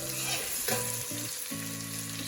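Finely chopped green chili fries in a pan with a steady, close sizzle, while a low hum of background music runs underneath throughout.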